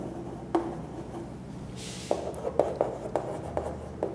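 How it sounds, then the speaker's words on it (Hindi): Pen or pencil scratching across paper, close and steady, with short repeated strokes and small taps, and no voices. "दोनों लिख लेता हूं एक ही साथ"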